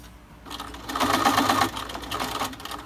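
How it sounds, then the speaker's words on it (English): A sewing machine runs a short, narrow seam to hold the pleats on a fabric face mask, a steady close whir that starts after a brief quiet moment and continues to the end. "Right now I'll just make a real short seam"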